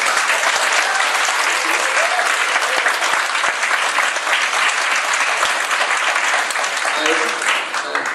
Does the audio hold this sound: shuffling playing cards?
no